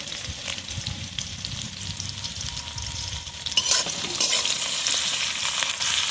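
Chopped onion, garlic and green chili sizzle steadily in oil in a pan, a dense continuous frying hiss that grows louder and brighter partway through as the pan is stirred.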